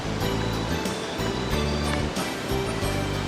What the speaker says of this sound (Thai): โอ้ประทับใจแหงน้ำตกแคมทาง